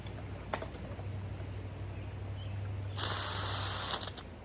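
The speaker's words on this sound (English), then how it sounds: "as you can see with this nozzle, it does spray pretty high" Backpack sprayer firing through a brass adjustable nozzle, a sudden hissing spray burst near the end over a low steady hum, with a brief faint click earlier.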